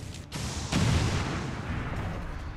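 Grenade explosion in a video game about fighting aliens, a loud booming blast with a rumbling low-end tail that settles into continuing low rumble; no talking over it.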